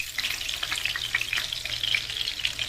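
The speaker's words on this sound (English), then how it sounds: "And now we're just going to fry for a few minutes." Chicken dumplings fry in a pan, a steady crackling sizzle with scattered bright pops, moderately loud and close, with nobody speaking.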